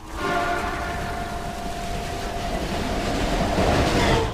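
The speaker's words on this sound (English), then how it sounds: "Luckily, subway service is still running during the end of the world" A subway train runs in a video game, a loud rolling rumble with a sustained tonal horn-like whine and faint rhythmic clatter throughout.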